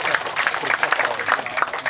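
An indoor audience claps for a speaker at an official government visit, giving a short burst of dense, close applause with a voice faintly mixed in.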